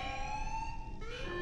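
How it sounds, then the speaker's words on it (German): An alarm siren in the Warhammer 40,000: Space Marine video game wails steadily with a gliding pitch shift over a low rumbling background. "Alarm. Structural damage. Warning."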